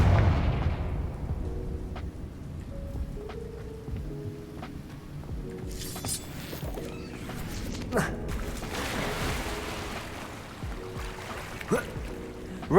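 Confringo blasting spells in Hogwarts Legacy go off as a series of booming explosions and crackling impacts over game music and ambience, with a voice speaking at times.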